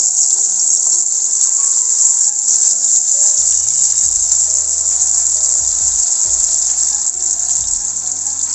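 Bitter gourd frying in hot vegetable oil gives a loud, continuous high sizzle that holds steady throughout, close up with faint low background noise and no talking.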